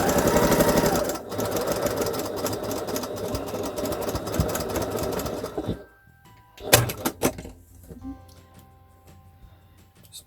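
A sewing machine stitches shut the opening of a small lavender-filled fabric bag, running steadily and close for several seconds before stopping, followed by a few faint clicks and handling sounds.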